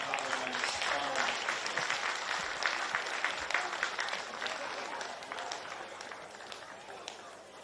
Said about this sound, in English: Big round of applause, please, ladies and gentlemen, for your Kappa Queensland Cup winners.